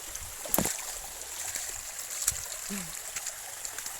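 Small countryside stream, a shallow creek, flowing with a soft, steady trickle and gurgle close by, with a few brief splashes and faint low sounds over the running water.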